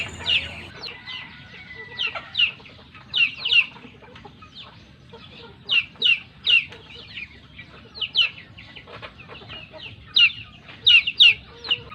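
Chickens cluck repeatedly in short, bunched bursts, fairly close and clear, with quiet rustling between the calls.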